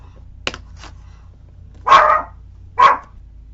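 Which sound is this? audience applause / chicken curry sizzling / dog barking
dog barking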